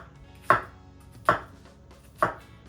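A knife chops down through an onion on a cutting board with three crisp, evenly spaced thuds, close up and with nothing else heard between them.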